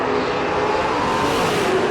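A Chevrolet Chevelle drag race car engine roars steadily at a drag strip, a loud, sustained full-throttle drone with no break across the moment.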